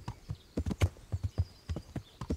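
A horse in a video game walks slowly, its hooves clip-clopping in an even, unhurried rhythm of about a dozen soft, distinct thuds, close and fairly quiet, with no talk over them.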